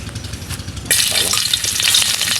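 Garlic dropped into a hot pan bursts into a loud, sudden sizzle that keeps crackling steadily afterward, close and with no one speaking.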